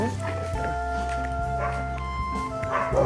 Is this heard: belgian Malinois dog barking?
yes